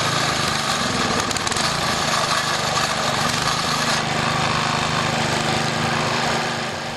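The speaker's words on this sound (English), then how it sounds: "To start the motor, move the lever to the right on both the choke and throttle. Pull the cord." A pull-start gasoline motor on a TranzSporter platform hoist runs steadily at close range, a loud, continuous buzzing drone with no pauses.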